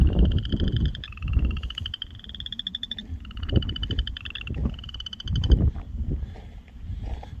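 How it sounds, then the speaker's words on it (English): Frogs croak in a steady chorus of high, rapid trilling calls, repeating in bursts, with low rumbling noise beneath. "You hear those frogs, you think they're big, but they're not."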